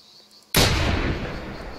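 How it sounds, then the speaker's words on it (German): A single sharp hunting rifle shot in The Hunter 2016 game, fired through a scope while hunting kangaroos, cracking suddenly after near silence and then trailing into a long rolling echo. "Schön sauberer Schuss, ne?"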